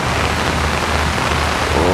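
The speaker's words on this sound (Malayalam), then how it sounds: "ഓ ഒടുക്കത്ത മഴയണ്ട." Heavy rain pouring down in Potong Pasir, Singapore, a dense, loud and constant hiss with no voices.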